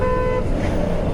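On a narrow, busy road, a car horn toots once briefly and close, then gives way to a low rumble of passing traffic and engines.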